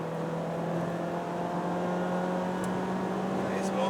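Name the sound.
Mazda 3 engine revving in sport mode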